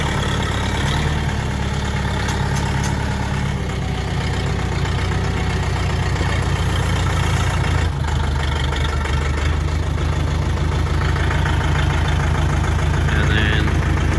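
Steady low diesel rumble of a UHI tractor engine idling and backing up on an off-grid property, continuous and close, with someone talking over it.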